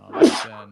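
A single close sneeze bursts out sharply and fades within a second, heard in a quiet room during a sports podcast recording.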